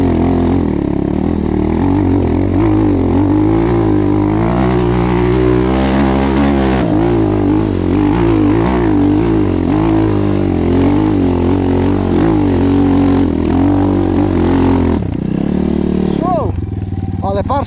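A KAYA 512 motorcycle engine labors loudly and continuously, its pitch rising and falling as it works uphill, then shifts near the end.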